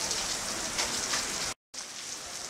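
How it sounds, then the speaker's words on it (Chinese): Heavy rain falling at Jingpo Lake in Heilongjiang, a steady dense hiss of drops on surfaces, loud and continuous, briefly cutting out for a moment before resuming, with no voices. "啊，好大雨啊！"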